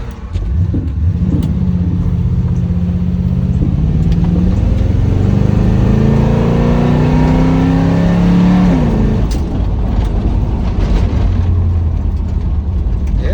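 A 1977 Chevrolet El Camino's engine is revved hard, its roar climbing in pitch for several seconds, then dropping back to a loud, rumbling idle close by.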